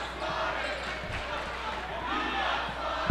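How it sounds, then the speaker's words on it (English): A crowd at a boys high school basketball game in a gym rises in a rowdy cheer after a blocked shot, with sneaker squeaks, a ball bounce, and a commentator talking over the noise. "Now you hear from the crowd,"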